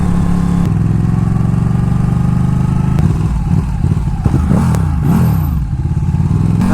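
A sportbike's engine while riding, a loud continuous mid-pitched drone with shifting revs and engine braking, wind buffeting close to the rider.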